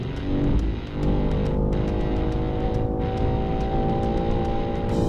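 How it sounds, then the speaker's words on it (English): A 2022 BMW M3 Competition engine pulls hard on a race track, a steady loud rising drone with strong harmonics and brief shift-like dips, heard alone from close by. "and listen to this engine."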